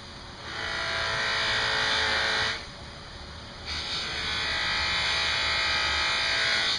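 A buffing wheel polishes the blade of a Kershaw Cyclone 1630 knife, with a steady, close, loud high-pitched whir that dips briefly as the blade is lifted away and then resumes at full strength.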